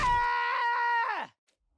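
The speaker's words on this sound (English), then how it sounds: "a piercing scream resounded in my ears" One piercing, sustained scream from a character in the game The Hundred Line. It holds steady for about a second, then drops in pitch and cuts off abruptly into silence.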